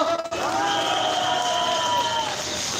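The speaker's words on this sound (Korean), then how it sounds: "자, 우리 신성룡 목사님 박수 한번 부탁드립니다." Audience applause for a pastor at an outdoor patriotic rally in a square, a steady wash of clapping with some cheering and voices in the crowd, loud and close throughout.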